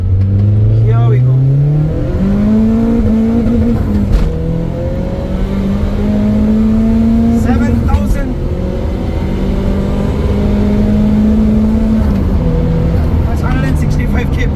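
A turbocharged Mitsubishi Cedia with over 400 hp revs and accelerates hard, rising in pitch through several gear changes, loud and close throughout the clip.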